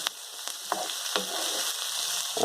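Chopped vegetables with rainbow chard stems fry on the highest heat, a steady close sizzle with sharp crackles and pops scattered through it and a brief stir near the end.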